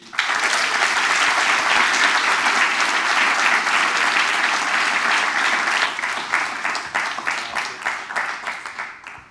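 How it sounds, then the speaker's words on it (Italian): A studio audience at a talk show applauds a guest as he comes on, with loud sustained clapping that thins out into scattered individual claps near the end. "per favore, un applauso per Alberto Grandi"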